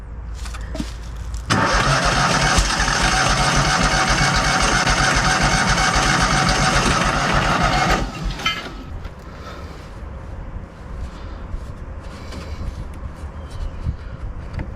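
A Hobart 10,000 watt welder generator engine with a freshly repaired carburetor cranks with the choke on. A loud, continuous churning lasts about six seconds, then drops to quieter rattling as it fails to catch.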